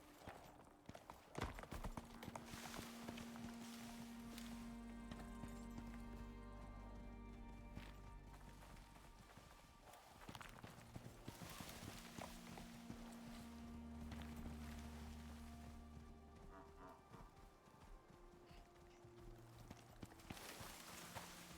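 In a survival video game, a buffalo's heavy hooves thud on the ground in a steady plodding rhythm, moderately close, against a low ambient game backdrop.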